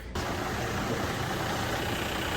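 A truck engine idling, a steady, close, even rumble that starts abruptly and holds at a constant level without revving, with no voices.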